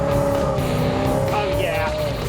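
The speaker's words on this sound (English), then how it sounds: "Me and Royal are about to race this wonderful Coronet." Dodge Coronet racing with tires squealing, a loud, close engine drone that holds a steady pitch, joined near the end by a brief high-pitched tire screech.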